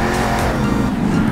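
A monster truck's engine roars loud and steady in Monster Jam Steel Titans during a Toronto freestyle run, with a touch of tire noise as the truck powers out.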